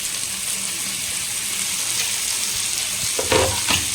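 Onion and tomato frying in a pan for sundakkai vatha kulambu, a constant close hiss of sizzling oil with a few stirring scrapes near the end.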